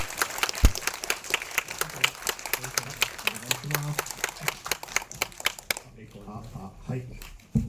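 Audience applause welcoming the director after a film screening at a film festival, steady dense clapping over several seconds that stops abruptly, with faint voices underneath.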